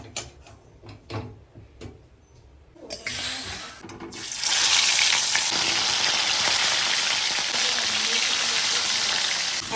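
Potatoes and gaati kochu (taro) frying in a pan in a home kitchen. A few clatters come first, then a steady, loud, hissing sizzle runs unbroken to the end.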